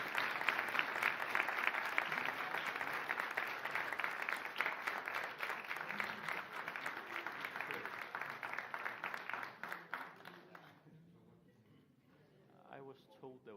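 Audience applause fills a hall at a student Q&A during a space conference, sustained and fairly loud with dense clapping for about ten seconds before fading out, followed by faint talk and movement.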